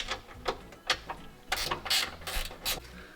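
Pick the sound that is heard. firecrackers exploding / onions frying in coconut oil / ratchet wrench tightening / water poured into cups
ratchet wrench tightening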